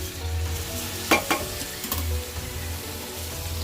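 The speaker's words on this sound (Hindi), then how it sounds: "इसे भी 2 मिनट भूनना है।" Rice stirred and frying in a pan with potatoes, peas and cauliflower for a spiced pulao, a steady close sizzle with a few sharp scraping clinks of the spoon partway through, no voices.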